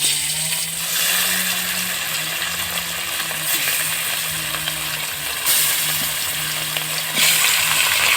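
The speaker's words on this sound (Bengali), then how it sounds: "এর মধ্যে মাছগুলোকে হালকা করে ভাজবো" Pieces of rohu fish lightly frying in hot oil in a home kitchen, a steady close sizzle with occasional stirring clinks, no voices.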